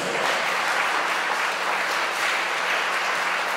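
A church congregation claps steadily in sustained, dense applause that holds at an even level from start to finish during a worship service.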